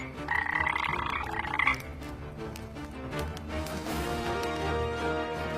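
Toads croak in a continuous chorus of rough, pulsing calls, loud and close, with a brighter trilling layer over the first couple of seconds before it settles into a dense steady croaking.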